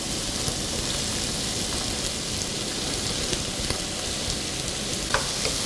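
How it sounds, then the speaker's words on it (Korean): Meat and vegetables stir-fry for jjajang rice in a loud, dense sizzle that hisses continuously, with occasional scraping clicks of stirring and no voices. "재료들을 전부 다 넣고 이렇게 볶아주세요."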